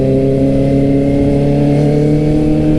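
A motorcycle engine runs loud and close in a steady, sustained drone, its pitch holding almost constant with only a slight rise, with no voices over it.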